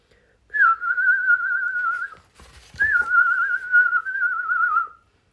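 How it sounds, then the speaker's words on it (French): Two long, steady whistled tones, each a couple of seconds long, separated by a short burst of rustling noise; clear and fairly close. "Le sifflement des oiseaux au loin."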